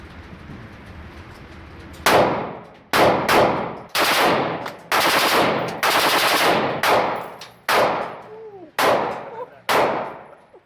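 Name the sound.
Tokyo Marui AKM gas blowback airsoft rifle firing full auto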